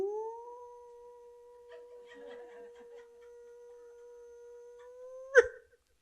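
A voice imitates a dog howling, holding one long, steady, drawn-out wail for several seconds in a quiet room before it breaks off in a short, sharp burst.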